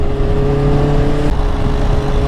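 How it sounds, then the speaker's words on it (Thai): A Honda CBR650R motorcycle fitted with an Akrapovic exhaust runs while riding, producing a loud, steady, continuous engine drone with no breaks and fairly even intensity. "ให้ได้ยินเสียงท่อสุดแล้ว แต่ว่าท่อมันก็อาคาไงมันก็เงียบอยู่แล้วธรรมดาเนาะ"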